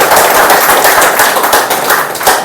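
An audience at a crypto earnings seminar in Mandi, Himachal Pradesh, claps loudly and steadily, a dense sustained burst of applause filling the room with no voices over it.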